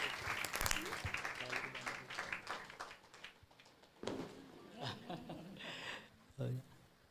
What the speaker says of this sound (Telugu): ఒకసారి అందరూ గట్టిగా చప్పట్లు కొట్టాలి.